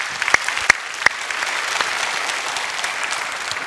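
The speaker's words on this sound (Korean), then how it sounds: "특별히 장로님들이 전도매 많이 맺도록 한번 박수합시다." Korean church congregation breaks into continuous group applause, with a few sharp, close individual claps standing out at the start over the steady patter of many hands.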